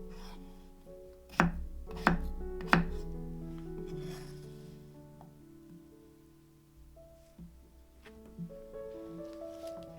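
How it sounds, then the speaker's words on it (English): A knife chops through potato cubes on a board for beef stew, three sharp separate cuts close up, with quiet kitchen hum behind them. "Cubing the potatoes ensures they cook perfectly alongside our tender beef."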